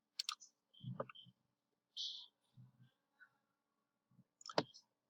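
Sharp computer mouse clicks during an ASP.NET Core Web API coding session, a few quiet, isolated clicks spread across a near-silent background with no talk.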